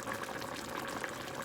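Fish simmers and steams in a covered pot, cooked Jamaican style, giving a steady close bubbling and hissing of boiling liquid throughout with no talk.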